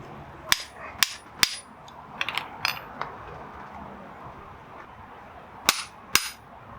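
Sharp metallic hammer taps on a BMW E46 M3 differential side seal, a few single strikes and a quick cluster, close and loud against a quiet workshop background.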